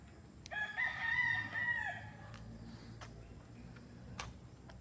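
A fighting-cock rooster crows a long, loud cock-a-doodle-doo on a farm with a training area for gamecocks, followed by quieter farmyard ambience and a few faint clicks.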